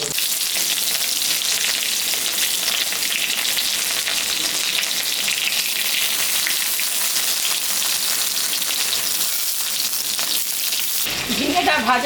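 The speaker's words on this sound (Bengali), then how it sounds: "ঝিঙ্গাগুলো এখন আমি ভাজিয়ে নেব।" Sliced ridge gourd frying in hot mustard oil, a loud, steady, close sizzle that crackles continuously and cuts off briefly near the end.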